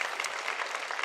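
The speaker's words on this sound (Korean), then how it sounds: "우리 유아 세례 받은 가정들을 향해 축복의 박수 한 번 더 드리겠습니다." A church congregation at a Christmas service claps briefly and steadily in blessing for families whose infants were baptized, a short, even burst of many hands.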